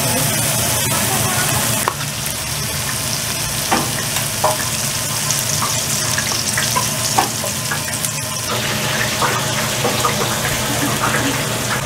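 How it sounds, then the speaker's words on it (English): Sizzling of an egg frying sunny side up on a flat burger griddle at a burger shack in Port Isabel, Texas, a steady broadband crackle throughout with small pops and light kitchen clatter. "Now she's putting the egg. It's gonna be a sunny side egg."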